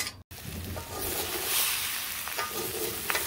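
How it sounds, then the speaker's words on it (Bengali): Raw jackfruit curry frying in a pan, giving a loud, continuous sizzle with occasional stirring scrapes, heard close up and without any talking. "এই যে পাশে আমি কত সময় ভেজে নিচ্ছি"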